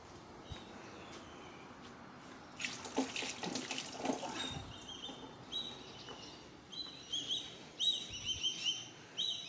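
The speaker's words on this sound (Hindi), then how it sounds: "ये देखें, अभी चीलें आ गई हैं खाना खाने के लिए।" Kites arriving to feed outdoors give repeated high, thin whistling calls in short bursts, mixed with a nearby splash of running water and faint background noise.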